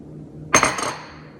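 A single sharp clatter of a large mixing bowl being set down or handled, with a brief metallic ring that fades quickly in a quiet room.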